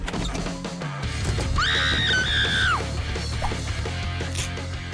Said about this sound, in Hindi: तुम चिल्ला क्यों रही हो?